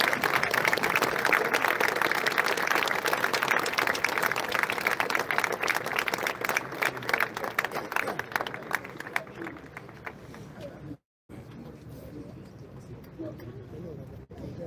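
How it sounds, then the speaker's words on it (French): A large crowd applauds at the inauguration of a statue of Bernard Tapie, dense sustained clapping that is loud at first and then thins, with a brief cut near the end and a quieter crowd afterward. "Je voudrais qu'on applaudisse Cédric pour ces moments."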